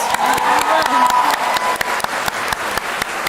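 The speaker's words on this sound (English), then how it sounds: "Let's give them all a round of applause." Audience applause fills a hall at a graduation convocation, steady dense clapping from many hands with a few louder individual claps standing out, faint voices underneath.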